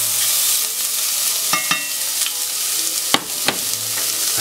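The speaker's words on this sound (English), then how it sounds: "And just get these onions cooking." Chopped onions, about one and a half cups with salt, sizzling and frying in a pan, a steady close crackle with a few sharp clacks and scrapes from stirring.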